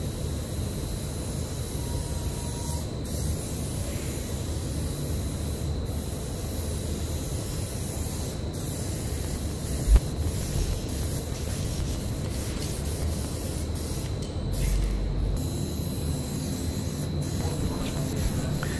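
An aerosol spray can sprays steady coats of paint onto a panel, giving a continuous close hiss with one brief click partway through.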